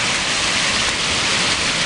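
Cinderford Brook runs in flood, a dense, continuous roar of rushing muddy water, close and loud with no breaks or voices.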